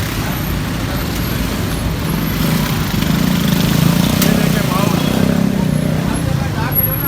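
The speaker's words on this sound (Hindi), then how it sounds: "देखो ट्रैफिक किस तरह जाम हो रहा है अभी इस वक्त" Dense traffic jam noise in a crowded Malir market street in Karachi, packed with rickshaws, a steady roadway rumble and engine drone throughout, with a voice talking over it.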